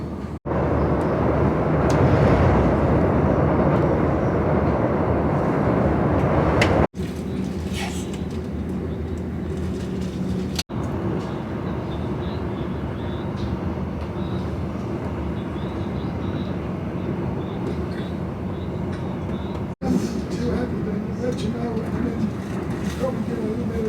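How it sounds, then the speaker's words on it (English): Train travelling alongside the Hawkesbury River near Sydney, a loud rumbling roar of wheels and carriage that drops abruptly to a quieter steady running noise, broken by a few sharp clicks and clunks. "The train passes the scenic Hawkesbury River."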